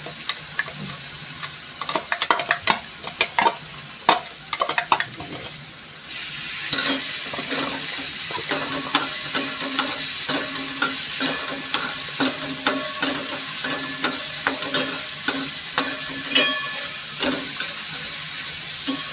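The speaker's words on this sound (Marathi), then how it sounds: "बघा इथे आता कढईमध्ये तेल तापत ठेवलं होतं मी मगाशी। आता ते हलकासं तापलेलं आहे, तर आपण त्याच्यामध्ये कांदा टाकूया" Onion drops into hot oil in a wok and sets off a sudden loud sizzle, with steady frying hiss and repeated scraping stirs close by throughout.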